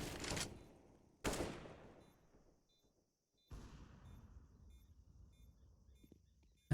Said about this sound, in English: Now Stare has a machine gun